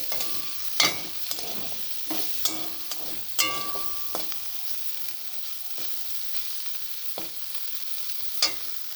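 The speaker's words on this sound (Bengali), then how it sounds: "এখন চিংড়ি ভাজছি" Prawns frying in a home kitchen pan, a steady close sizzle with scattered sharp pops and crackles and occasional stirring scrapes, without any voices.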